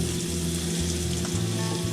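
Beef sizzling in a pan with garlic for beef stroganoff, a steady, loud, close crackling hiss that runs unbroken, with a low hum underneath and no talking.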